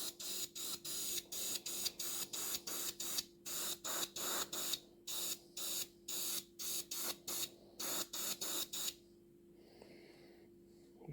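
An airbrush or spray can lays a dust coat of paint on a model of the HMS Queen Elizabeth ship, about twenty short, sharp hissing bursts in a steady rhythm, close and fairly loud, ending in quiet.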